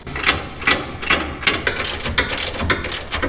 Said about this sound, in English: So there's one, and there's the other one with the wrench. So let's tighten her down.